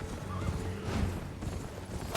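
A horse neighs inside the Elden Ring video game, a whinny over steady game ambience and hoof clatter, moderately loud and without speech.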